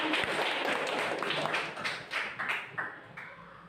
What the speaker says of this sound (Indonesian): tepuk tangan lagi buat Irawan.